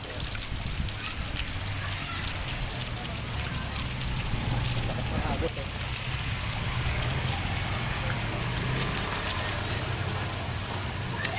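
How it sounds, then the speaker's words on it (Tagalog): Heavy rain pours steadily at a work site, a constant broadband hiss with rushing water underneath, no breaks throughout. "kasi lakas ang ulan"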